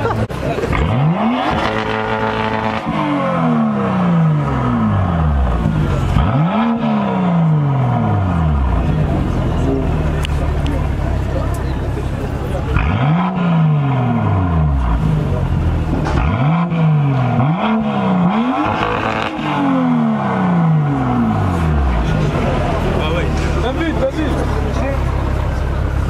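Several car engines rev hard again and again at a car meet, with repeated rising and falling sweeps that stay loud and close throughout. Voices talk underneath.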